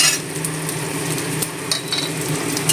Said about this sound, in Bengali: এখন বেটে রাখা আদা রসুনটা দিয়ে দিলাম